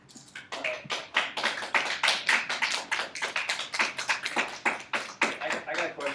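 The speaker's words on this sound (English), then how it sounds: "Clapping, keep clapping." Audience clapping after a talk in a Wyoming lecture hall, a dense run of fast, overlapping hand claps lasting several seconds at a steady, fairly loud level, with no talk over it.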